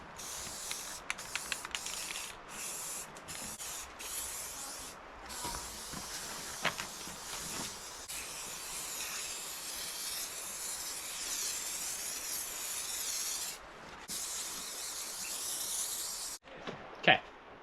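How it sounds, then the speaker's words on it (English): Spray lacquer hissing from an aerosol can onto chainsaw-carved wooden owl and tree sculptures: long, steady spray bursts broken by short pauses and a few clicks, close and fairly loud, with occasional talking underneath. "now it's time to get some spray lacquer, and we're gonna spray lacquer both these things down"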